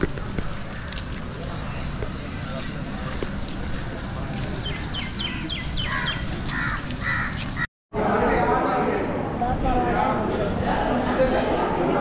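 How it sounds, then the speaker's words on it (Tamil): Small birds, sparrows, chirp in short bursts on a rainy morning at Mahabalipuram, in a forest-by-the-beach setting, over a steady wash of rain hiss. There is a brief cutout, then the background noise turns louder. "சவுண்டு பார்த்தீங்களா, அந்த குருவி சவுண்டு"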